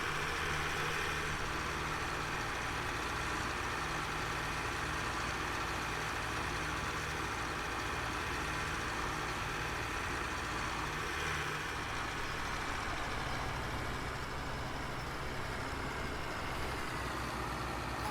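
Tractor in Farming Simulator 17, a 4760 straining to pull loaded wagons during harvest: a steady, heavy low engine drone runs continuously and unchanging throughout, with no talk over it.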